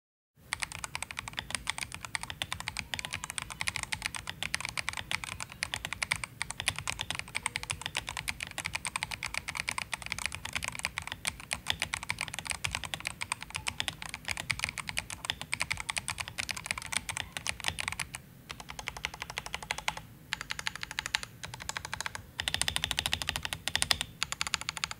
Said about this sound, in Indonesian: unit yang gue pegang kali ini menggunakan switch Otemu Jet White, dan jujur secara stok buat si Jet White ini feels ketiknya agak kekleki